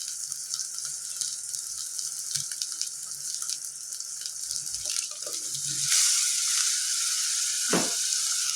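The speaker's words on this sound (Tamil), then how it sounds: "இப்போ நம்ம அரைச்சி வச்சுருந்த மல்லி புதினா கருவேப்பிலா மிளகாய் அது எல்லாத்தையும் இதோட ஆட் பண்ண போகிறோம்" A ground paste of coriander, mint, curry leaves and chili is added to a frying pan for spinach chicken gravy, with a continuous close hiss that swells louder partway through and no voices.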